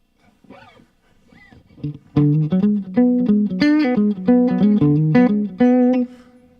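Electric guitar with little reverb plays a phrase of distinct picked notes, held tones wavering with vibrato, after a few soft, quieter notes at the start; bright, close and dry.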